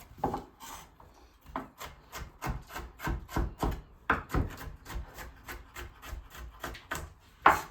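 A knife chops peppers on a cutting board for a cheesy breakfast casserole, giving a steady run of sharp, close wooden knocks about three or four per second, with short pauses and no talking.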